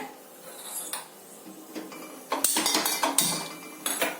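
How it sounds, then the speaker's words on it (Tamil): A metal kadai is set onto a kitchen stove for tempering mango chutney. Scattered metallic clinks and clatters come close by and quiet at first, then louder knocks and rattles. "நான் தாளிப்புக்கு ஸ்டவ் ஆன் பண்ணி கடாயை வைக்க போகிறேன்"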